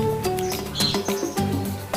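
Lovebirds and canaries kept in cages chirp and tweet in a busy, overlapping chorus, close by and fairly loud, with short calls and trills coming through continuously.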